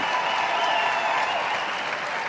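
A large crowd applauds at a dog show, a steady, dense wash of clapping that holds loud and unbroken throughout without any talk over it.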